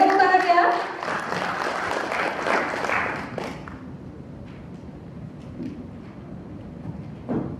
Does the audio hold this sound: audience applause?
yes